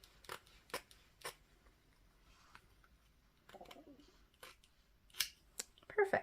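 Scissors snip through thick cardboard planner pages, a series of sharp, distinct cuts at an irregular pace, with quiet sounds between them and a voice now and then.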